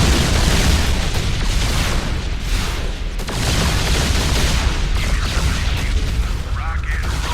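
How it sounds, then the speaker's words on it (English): Heavy booming cannon blasts and rumbling explosions from the Battlecruiser Yamato cannon in the StarCraft 2 video game, loud and continuous with bursts of impact over a dense mechanical din. "A popular choice is the Yamato cannon, which does significant damage to single enemy targets."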